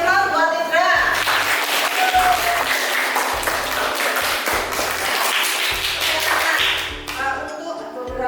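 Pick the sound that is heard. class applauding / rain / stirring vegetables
class applauding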